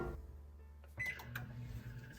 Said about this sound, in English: I'm gonna microwave this and stir in 30-second increments.